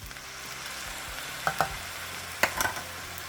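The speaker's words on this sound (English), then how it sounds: "last thing I'm going to do is add in the soy sauce itself" Chicken and egg fry in a pan with a steady sizzle as soy sauce goes in, bringing sharper crackles and a few clinks of a utensil stirring, close and with no voices.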